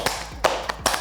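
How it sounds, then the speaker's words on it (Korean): Hands clap a few times in quick, uneven succession, close and sharp, with no voices. "박수!"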